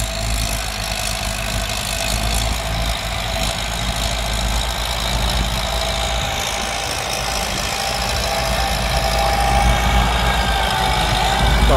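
Bulldozers, including an M8808 and an M70, push dirt while clearing forest land in Cambodia, their heavy diesel engines droning in a steady, loud, continuous low rumble with clanking mechanical texture.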